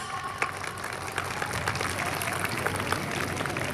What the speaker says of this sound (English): Can we have a clap for us?